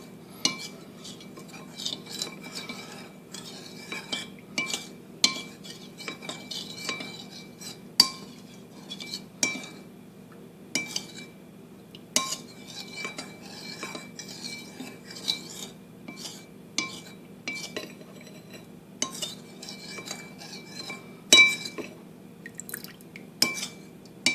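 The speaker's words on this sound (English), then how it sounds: "Stir this and simmer it for a few minutes" Sweetfire sauce stirred in a pan, a utensil scraping and clinking against the metal in irregular taps and light rattles over a low steady simmering bubble, close and moderately quiet throughout.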